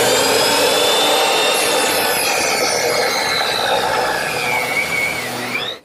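A power saw cutting off part of a glued-up cherry wood blank for a corner chair, one continuous loud, high whining cut with shifting pitch that ends abruptly as the piece comes free.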